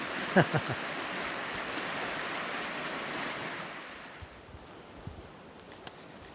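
Stream water flows steadily on the Continental Divide in snowy mountain country, a continuous close rushing wash that softens after a few seconds, with a few light clicks and no talk.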